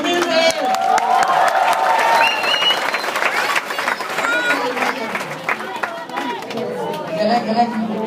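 Applause from an audience for Mr. Edwin Humilde, sustained clapping mixed with crowd chatter and cheering, with a voice speaking over it.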